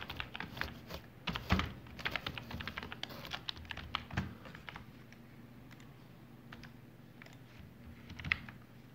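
Typing on a computer keyboard during spreadsheet work, faint irregular key clicks in short bursts with pauses, close and quiet.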